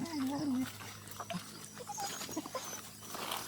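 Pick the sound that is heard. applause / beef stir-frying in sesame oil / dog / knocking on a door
dog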